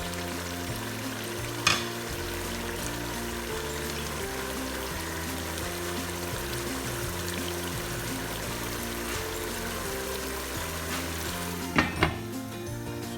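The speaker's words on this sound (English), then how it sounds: "I'm mixing the salt into it, and like I said, we just allow this to fry." Peppered snails fry and get stirred in a pot, a steady sizzle running throughout with a couple of sharp clinks near the start and again near the end, no voices.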